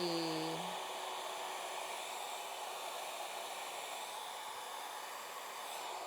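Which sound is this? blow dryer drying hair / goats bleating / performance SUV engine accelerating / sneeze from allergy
blow dryer drying hair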